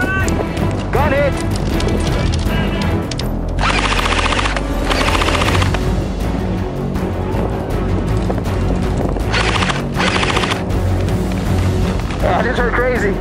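Airsoft guns fire in rapid bursts during a game, several loud rattling volleys close by and a few farther off, with players talking and shouting in between.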